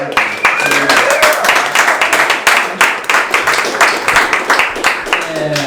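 A comedy club audience applauds loudly and steadily after a comedian's set, with dense clapping mixed with whoops and voices throughout.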